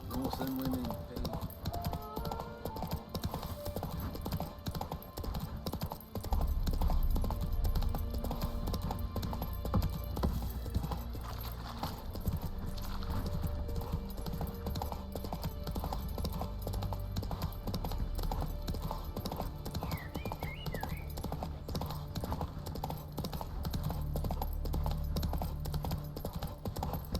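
Horse hooves clip-clopping in The Witcher 3, a steady rhythmic trot running throughout at moderate level, with game music and voices speaking over it.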